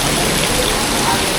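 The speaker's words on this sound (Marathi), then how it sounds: "आता 2-3 जण अजून यायला लागले आहेत आणि पाऊस एकदम जोरदार सुरू झाला आहे." Heavy monsoon rain pours down outdoors near Tungareshwar, a dense, loud, unbroken hiss that fills the whole moment.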